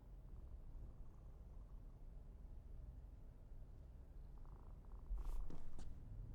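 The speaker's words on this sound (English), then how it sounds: "It also purrs loud, so I'm pretty sure it's the cat." A cat purrs in the Cyberpunk 2077 video game, a soft steady low rumble running continuously, joined near the end by a brief brighter chirpy sound over the purring.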